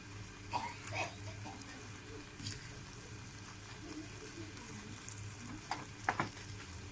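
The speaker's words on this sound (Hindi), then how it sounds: "आपने इसे लो आंच पे 7 से 8 मिनट तक चम्मच चलाते रहना है और इसे पकाना है" A spoon works through halwa cooking on low heat, giving soft scraping and stirring strokes over a steady low sizzle, with a few sharper clinks and scrapes scattered across the stretch and no voices.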